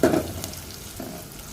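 Onion and garlic fry in a pan with a soft, steady sizzle and a faint stirring scrape, close by and short.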